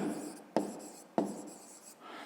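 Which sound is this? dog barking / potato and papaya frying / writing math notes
writing math notes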